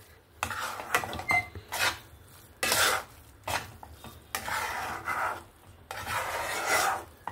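Semolina halwa made with milk is stirred in a pan over a low flame, with repeated rasping scrapes of a spoon against the metal coming in uneven bursts separated by short quiet gaps, close and fairly loud.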